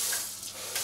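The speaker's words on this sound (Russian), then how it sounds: "Холодную воду включаем, чтобы пар нас не обжег." Cold water runs steadily from a kitchen tap into a sink, a continuous broad hiss and splash, near and fairly loud, with no voices.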